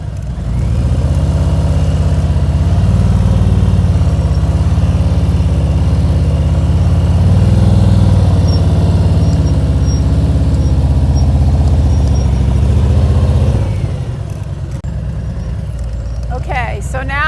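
A Harley-Davidson motorcycle rumbles at low speed through tight turns, a loud, steady engine drone that wavers with throttle changes before easing off near the end.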